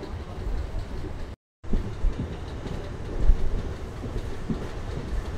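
A MEMU express train runs on the main line between Narasapur and Vijayawada, a loud steady rolling rumble of wheels on rails with faint clatter, briefly cut out for a moment early on.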